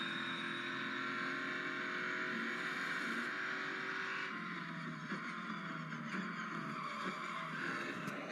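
A racing game with a Corvette C7.R, Ferrari 488 GTE and Ford GT at Le Mans: tires squeal in a steady, sustained screech over engine drone under hard braking, fairly quiet overall.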